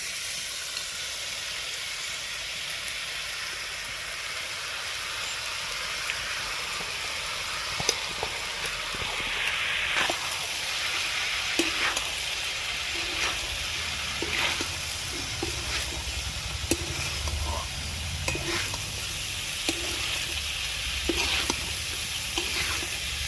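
Cooked rice and winter vegetables for chicken fried rice being stir-fried in a pan, with a steady broadband sizzle throughout and repeated scraping and clanking of a spoon against the pan, no voices.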